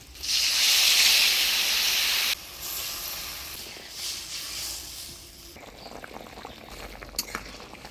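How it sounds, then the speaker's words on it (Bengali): Mustard paste hits hot oil with potatoes while cooking a tilapia mustard curry, giving a loud burst of hissing sizzle that drops to a quieter bubbling fry with scattered crackles. "এবার সরষে বাটাটা দিয়ে দিই।"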